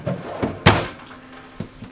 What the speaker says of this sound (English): this is all soft closed drawers in the kitchen space.